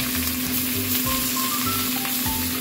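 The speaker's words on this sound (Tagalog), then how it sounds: "parang i-fry natin maging golden brown siya" Pork ribs frying in a pan for braising with ginger, soy sauce and vinegar, a steady close sizzle with crackling pops and a faint hum underneath.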